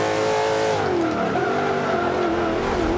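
A race car in Forza Motorsport 5 at Le Mans holds a loud, continuous engine howl in fourth gear, its pitch sliding as it revs, with a hint of tire squeal.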